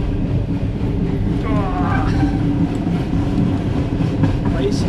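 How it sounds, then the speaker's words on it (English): A passenger train runs on rails during a trip crossing the Caspian Sea region in Kazakhstan, a steady close rumble with faint rhythmic clatter and a brief squeal. Voices murmur underneath. "It's a really cool train."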